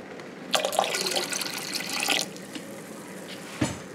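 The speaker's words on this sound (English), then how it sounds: "we're going to pour a little bit of white vinegar in our" White vinegar pours into a water-filled home canning pot, a short splashing stream lasting under two seconds, followed by a quiet pause and a brief clunk.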